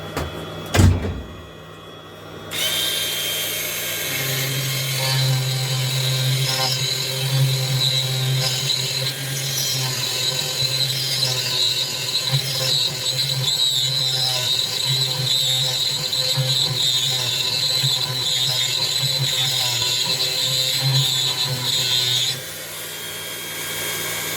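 Grinding on a wood lathe in a workshop, a tool scraping against the spinning workpiece in a sustained, loud, steady whine and hum that starts after a brief knock and stops near the end.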